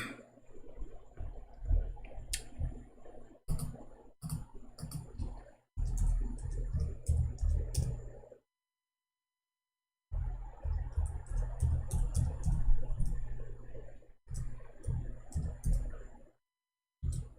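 Typing on a computer keyboard, a close run of quick plastic key clicks in bursts separated by short pauses, with someone speaking over parts of it.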